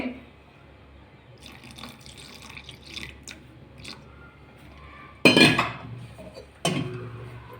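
Water splashes into a mixer jar in two short bursts after quiet clinking and rustling, close and fairly loud, while preparing elanji batter with egg and milk.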